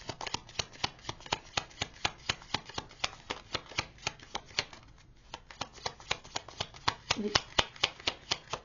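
A deck of tarot-style cards riffled and shuffled again and again, giving a steady run of crisp, close slapping flicks, with a short pause near the middle and a brief spoken word.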